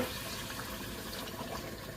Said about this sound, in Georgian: ეს 3 ჭიქა ბრინჯი ხო იყო, 6 ჭიქა ადუღებულ წყალს დავასხავ